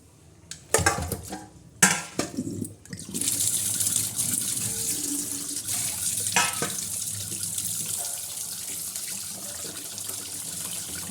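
A few clunks and splashes, then tap water runs steadily into a basin, a close, continuous gushing stream while bangda (Indian mackerel) fish is rinsed.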